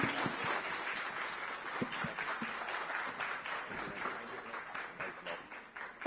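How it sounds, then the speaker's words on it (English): An audience applauds panelists at a tech conference session, a continuous spread of many hands clapping at moderate volume, steady throughout with no one talking over it. "let's give a big round of applause to Deep and Sanjeev"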